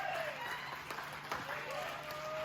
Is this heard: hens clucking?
no